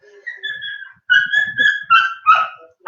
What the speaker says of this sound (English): Wait, there are dogs.